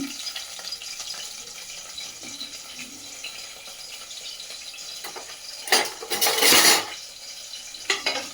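Ingredients frying in a pan for aloo beans curry, a soft steady sizzle that swells into a louder burst of hissing and clatter near the end, close and without talk.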